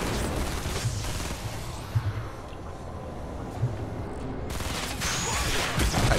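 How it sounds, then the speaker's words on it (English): Explosive bursts and gunfire in a Fortnite match, with a rocket launcher being fired repeatedly; thumping blasts recur every second or two under a dense, continuous wash of noise, louder toward the end. "Somebody's going to town with a rocket launcher."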